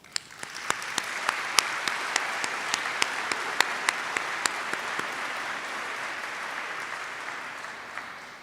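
An audience at a Wake Forest physician assistant program graduation claps steadily, a dense sustained patter of many hands with a few sharp individual claps standing out, tapering slightly toward the end.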